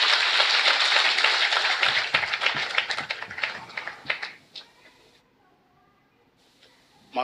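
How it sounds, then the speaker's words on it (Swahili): Audience applause at Betty Bayo's funeral service in Kiambu: dense, sustained clapping from a crowd for about four seconds, thinning into scattered claps and fading to near silence. "Tuwapigie makofi."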